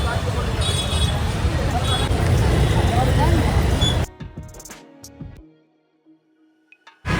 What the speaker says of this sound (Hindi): अभी हम लोग पहुँचे घंटाघर में, यहाँ पे इतना ट्रैफिक हो रहा है ना